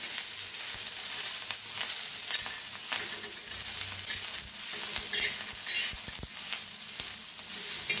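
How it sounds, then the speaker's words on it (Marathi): Roasted chillies, peanuts, garlic and coriander stirred in a hot pan, with a steady close sizzle and scraping strokes throughout and no voices. "आता टाकूया कोथिंबीर, पुन्हा मिक्स करूया सगळ्याला।"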